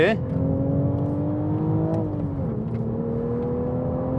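Toyota GR Supra with a manual gearbox, a BMW Z4-based sports car, on the Monteblanco race track: a steady, droning engine note that rises, then drops briefly around a gear change, with someone talking over it.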